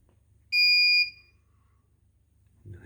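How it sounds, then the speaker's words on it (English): A wireless screen protector device gives a single high-pitched electronic beep on powering on, about half a second long, close by in an otherwise quiet room, followed by a faint rustle. "You'll hear it beep."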